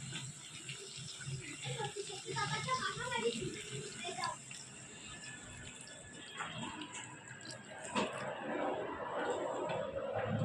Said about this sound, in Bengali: এবার এর মধ্যে উষ্ণ গরম জল দিয়ে দেব।